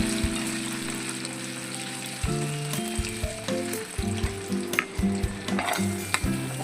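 Finely chopped ginger sizzles and fries in hot oil in a home kitchen as a dish of creamy malai paneer begins, a steady bright crackle interrupted by the knock and scrape of a stirring spoon against the pan.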